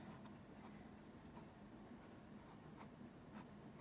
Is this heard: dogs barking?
no